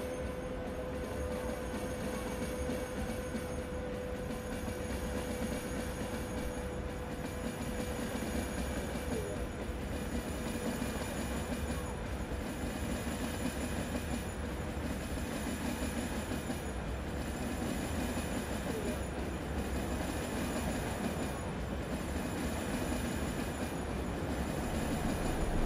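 ICE high-speed train pulling out of Frankfurt Hauptbahnhof in Train Simulator Classic, a steady rolling rumble with faint wheel squeal and high tonal whine, continuous at moderate level.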